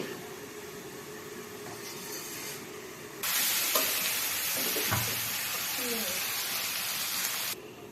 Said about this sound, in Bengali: এইভাবে মাঝে মধ্যে একটু তরকারিটাকে একটু নাড়াতে নেবেন